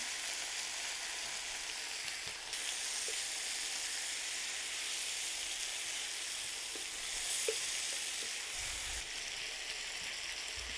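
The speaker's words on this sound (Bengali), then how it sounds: "রসুন এবং পেঁয়াজটাকে ভেজে নিয়েছি এর থেকে আর বেশি ভাজা লাগবে না আর এখানে আমি টমেটো দিয়ে দিচ্ছি আধা কেজির মতো" Half a kilo of thickly cut tomatoes fry with browned garlic and onion in a pan, giving a loud, continuous sizzle that swells in two waves as they are stirred, with no talking.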